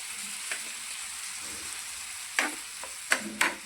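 Roasted coconut with milk and sugar being stirred in a pan, a soft low sizzle under a few sharp scraping strokes of the spoon near the end.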